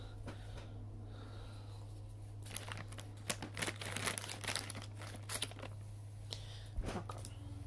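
Plastic snack packaging of Entenmann's Little Bites Banana Muffins crinkles and tears in several close, sharp bursts, with quieter rustling before and after and a steady low hum underneath.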